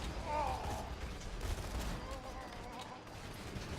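Video game gunfire in Borderlands 2, aimed at the pilot of a Buzzard, comes as a low, steady stream of muffled shots under game noise, with faint voice-like sounds in the mix.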